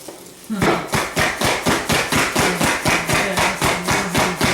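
Cookies being crushed for cookies and cream cake pops, a steady run of about twenty sharp, evenly spaced pounding thuds, loud and close, with no talking.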